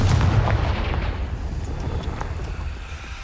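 The Confringo blasting spell explodes in a Harry Potter game, a loud booming blast at the start that rolls off into a long rumbling tail of debris and wind-like noise.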